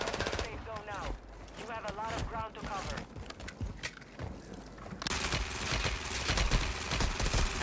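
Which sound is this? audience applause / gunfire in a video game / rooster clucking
gunfire in a video game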